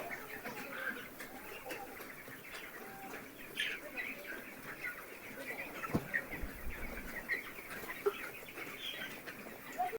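A large flock of poultry farm chickens, suffering from a cold, keeps up a continuous chorus of clucks, chirps and calls at a moderate distance, with a steady murmuring background throughout.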